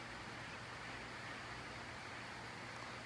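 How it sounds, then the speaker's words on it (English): Rain falls steadily as an even, dense hiss of drops on surfaces, constant and moderately distant, with no voices. "Look at that rain."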